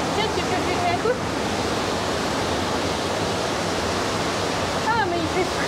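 Steady, loud rush of a waterfall at a high spot near Otavalo, Ecuador, a continuous broadband roar filling the scene with a few faint voices briefly audible over it.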